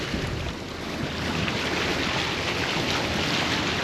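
A boat cruises along the coast of Fort-de-France bay, with a dense, steady roar of wind, water and engine at close range and no voices.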